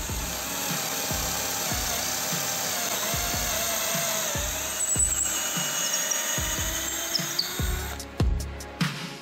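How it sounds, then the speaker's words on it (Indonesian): A DCA ADJZ1202E cordless drill bores through hard wood, its motor whirring steadily with repeated surging bursts as the bit bites, close and fairly loud, ending in a few sharp clicks. "bisa untuk mengebor kayu keras sampai tembus"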